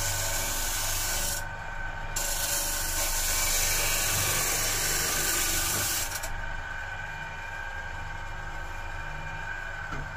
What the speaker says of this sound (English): we're going to just take the cabinet and just take the edges off onto on the disc sander here